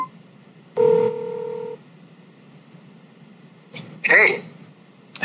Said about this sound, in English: Of course, you can make a phone call.